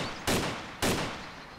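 AK rifle fire in a survival shooter game, two separate bursts about half a second apart, each a sharp loud crack trailing off into echo, with no talking.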